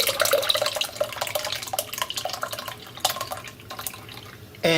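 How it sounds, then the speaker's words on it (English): Cooled passion fruit syrup drips and trickles through a kitchen sieve, close and wet-sounding, with irregular splashy patter and a louder liquid rush at the end. "We are now going to pass it through a sieve."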